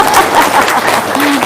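An audience applauds at a live event, a brief dense burst of clapping close by with a faint voice underneath.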